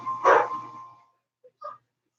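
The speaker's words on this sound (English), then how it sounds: "Dogs keep barking at anything out there" Dogs bark outside, one strong loud bark followed after a pause by a couple of short fainter yips, with silence in between and no talk.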